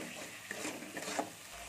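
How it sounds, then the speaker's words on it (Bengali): A tomato and spice masala for bhindi posto sizzles and is stirred in a pan, with soft scraping strokes and light frying crackle, close and fairly quiet. "দিয়ে আমি এটা ভালো করে কষতে থাকবো"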